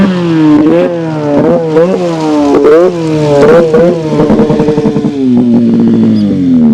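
A Ski-Doo X-RS trail snowmobile engine revs loudly and close on a wooded trail, rising and falling in repeated throttle blips before settling into a steadier, slightly descending drone with a choppy rattle.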